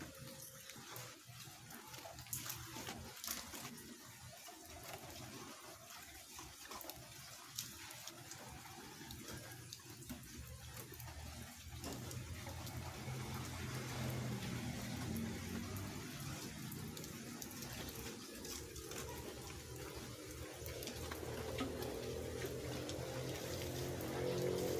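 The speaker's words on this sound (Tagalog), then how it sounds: "Tapos umuulan na naman dito sa lugar namin." Rain falling steadily in a rural neighbourhood, a faint wet hiss with scattered drips that grows heavier and more continuous toward the end.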